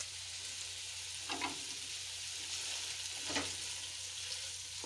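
Potatoes and eggplant fry softly in a pan, a faint steady sizzle with a couple of brief stirring scrapes against the pan.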